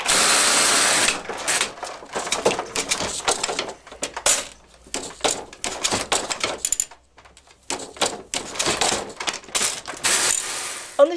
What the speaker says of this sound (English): this particular machine, Martin has a second row of needles which in